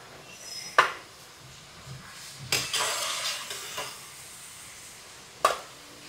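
Chips frying in hot oil in a home kitchen, with a faint steady sizzle under a few sharp clinks and stirs of a utensil against the pan.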